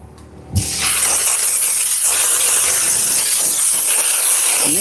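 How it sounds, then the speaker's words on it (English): A steam cleaner blasts hissing steam onto a Toyota Highlander car door, starting after a brief click and then a loud, steady, close-up hiss that holds for several seconds. "now we're gonna steam our door really quickly"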